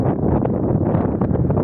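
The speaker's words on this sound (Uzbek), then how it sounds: "Ochiq tabiat mana yengil shamol bo'lib turibdi." Light wind blowing outdoors in open country beside a highway, a close, steady buffeting rush against the microphone with small gusty flutters and no speech.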